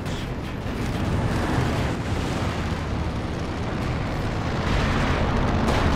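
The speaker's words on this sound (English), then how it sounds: "bombing run finishing off the tier 4 for Smile" A bombing run in Company of Heroes 2 brings dense, continuous rumbling explosions, a loud, heavy wall of booms and blasts that barely lets up.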